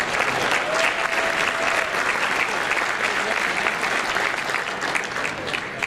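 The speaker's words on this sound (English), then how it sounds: "So let's give ourselves a round of applause." Attendees at an association's annual meeting give a long round of applause, a thick continuous wash of clapping from a large room that holds steady throughout.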